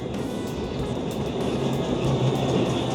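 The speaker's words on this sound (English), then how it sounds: "I think the tram's just about to go past" A tram rolls past on New Regent Street in Christchurch, giving off a steady, fairly loud rumble with a faint rattling texture that holds for the whole stretch.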